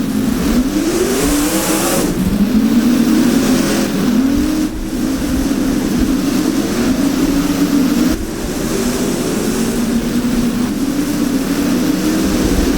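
Dirt modified race car engines in the sim racing game rFactor at Blackrock Speedway, a loud continuous roar as several cars rise and fall in pitch through repeated revving cycles around the track.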